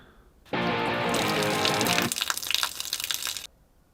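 Water gushes out of an emptied crop sprayer in a steady, loud stream. It starts abruptly, runs for about three seconds with a spluttering tail and then cuts off to near silence.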